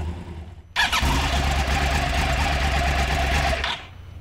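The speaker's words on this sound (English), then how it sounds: "That's the new uneven firing interval cross-plane crankshaft." A Yamaha YZF-R1 motorcycle engine with a cross-plane crankshaft and uneven firing interval roars to life and revs hard and steady for about three seconds, loud and close, with a rough uneven growl before dropping off.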